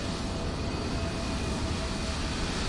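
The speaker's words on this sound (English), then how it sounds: "Train noise out here." A train rumbling steadily past outside, heard indoors as a broad, continuous roar with no clear peaks or breaks throughout. It is moderately loud, and no one speaks over it.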